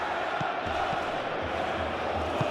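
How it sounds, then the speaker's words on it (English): Football stadium crowd at Crystal Palace vs Chelsea, a broad steady roar of many voices with faint rhythmic thumps beneath, sustained and distant-sounding over the brief span. "the crowd are reacting to that now"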